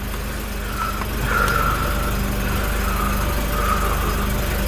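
A Volvo 740 engine idling in drive, a steady low rumble with a faint whine that swells briefly as the revs rise, close and continuous with no talk.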